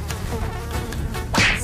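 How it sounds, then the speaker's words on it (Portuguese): Mosquitoes buzzing in a thin, steady drone around a car scene, alone with no talk, growing louder for a moment near the end. "vocês mandam esses mosquitos embora, senão eu não consigo"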